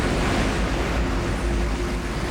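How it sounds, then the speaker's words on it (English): Huge waves whipped up by Typhoon Faye in 1995 crash in a steady, loud, roaring wash of surf and wind noise, with no distinct breaks. "Typhoon Faye from 1995 shows how huge waves can devastate,"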